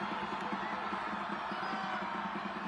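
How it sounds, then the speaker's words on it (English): A stadium crowd at a high school football game between Lone Peak and Skyridge roars and cheers steadily, a dense, distant wall of voices with no break. "Crowd in the entire stadium has come to life on 3rd and 6."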